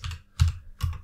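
Three short bursts of key presses on a computer keyboard running Ubuntu, each a quick clacky tap spaced about 0.4 s apart, close and fairly quiet with no talking.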